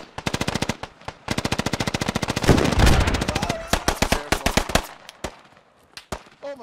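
Gunfire in the tactical shooter Squad: long, evenly spaced automatic bursts from a nearby machine gun, loud and sharp, with a heavier blast near the middle and scattered single shots trailing off at the end, with no speech.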